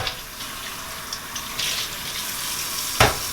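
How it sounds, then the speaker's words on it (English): A Caraway pan is rinsed under a running kitchen tap, a steady close hiss of flowing water with a brief louder splash near the end and no one talking. "Let's go ahead and give it a rinse."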